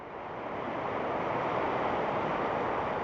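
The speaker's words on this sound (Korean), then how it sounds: "평온하던 바다에 물살이 일어납니다." Tidal currents stir the open Pacific sea, a broad, steady roar of surging water and waves that swells slightly at the start and then holds at a constant, full wash.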